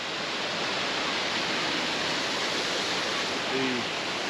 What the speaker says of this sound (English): The second tallest waterfalls in the state of Maryland.